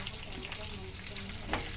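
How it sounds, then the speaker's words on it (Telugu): Spices and garlic sizzle steadily in hot oil in a pan while tempering for a ladies finger (okra) dish, with a continuous close frying hiss and a brief louder crackle near the end, and no talking. "ఇలా పోపులు వేపుకున్నాకండి బాగా వేపుకోవాలి"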